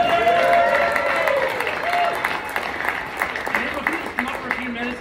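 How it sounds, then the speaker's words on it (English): Audience at an awards event claps steadily, loud at first and easing slightly, with a speaker's voice heard over the applause. "so if you can applaud her"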